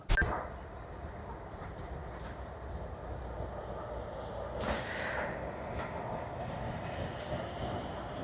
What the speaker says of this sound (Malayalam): നമ്മുടെ ട്രെയിൻ വന്നിട്ടുണ്ട്